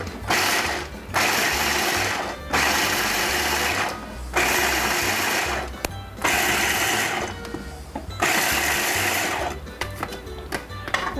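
Blender pulsing peanuts into chunks: four or five loud whirring bursts, each lasting a second or two, separated by short pauses, followed by rattling and clicks.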